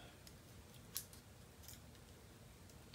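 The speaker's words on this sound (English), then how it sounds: "So you just use like your little scissors or whatever." Small scissors give a single crisp snip while trimming the frayed, shredded tip of a broken fishing rod, close and quiet against a faint background hiss.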